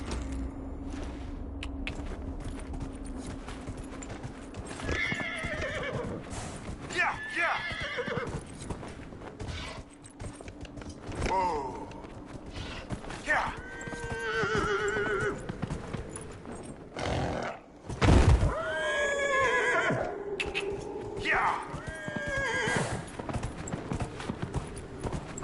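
A horse neighs and whinnies repeatedly in the Dragon Age: Inquisition video game, with clip-clopping hooves and a low hum underneath, the calls rising and falling across a busy soundscape.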